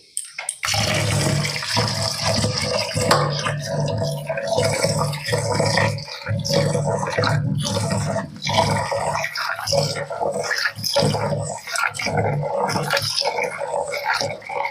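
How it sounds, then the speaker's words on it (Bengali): Masoor lentils being rinsed under running water until it runs clear, a steady splashing wash with sloshing and knocks throughout, loud and close. "মুসুর ডালগুলো ধুইতে ধুইতে যতক্ষণ না পরিষ্কার জল বের হচ্ছে ততক্ষণ পর্যন্ত আমি মুসুর ডালগুলোকে ধুয়ে নিচ্ছি"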